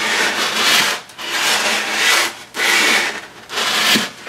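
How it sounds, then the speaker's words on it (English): Sandpaper is rubbed by hand across a surface, likely wood, to smooth it, producing loud rhythmic rasping strokes in four long back-and-forth passes with brief pauses between. "For hand sanding, I'm going to take a piece of paper and work it on there to smooth that out finally."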